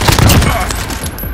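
Gunfire in the Call of Duty Warzone video game comes as a quick burst of rapid, loud shots, with echoing cracks trailing off over about a second.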